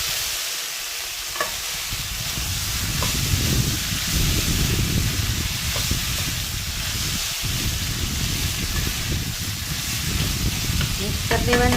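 Boiled corn kernels and tomato frying in a pan, a busy continuous sizzle with repeated scraping and clattering stirring strokes close by.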